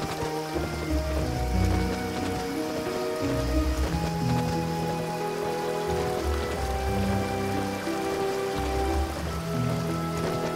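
Steady rain patters in a horse riding video game, a continuous hiss of drops on surfaces running throughout, with a gentle game music tone layered underneath and no talking.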